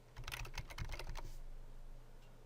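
Quick, close keystrokes on a computer keyboard during a short burst of typing, crisp and moderately quiet, trailing off after about a second into faint room hum.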